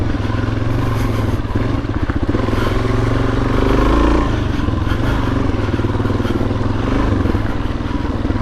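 A Suzuki DRZ400S dirt bike on Bridgestone Trail Wings tires working along rocky single track, its thumping engine loud and close, pitch rising and dipping as the rider throttles, with clattering underneath and no talk.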